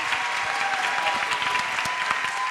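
An audience at a university entrepreneurship competition claps for a pitching team, a sustained, dense round of applause at even volume, with a faint tone humming underneath and no voices on top.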